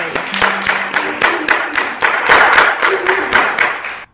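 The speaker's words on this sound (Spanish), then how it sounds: "Aplaude el público fuerte" A trapeze competition audience claps in a quick, even rhythm of sharp, close hand claps that build slightly and then stop abruptly.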